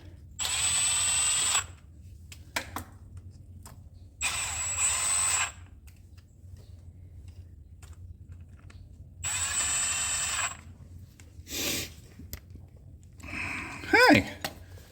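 An impact driver running bolts in, several loud whirring bursts of about a second each with pauses between them, followed by brief clunks and a short spoken exclamation near the end.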